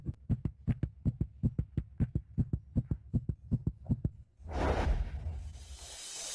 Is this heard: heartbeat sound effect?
yes